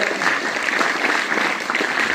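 Audience clapping at a commemorative birth-anniversary programme, sustained dense applause filling the whole moment at steady loudness.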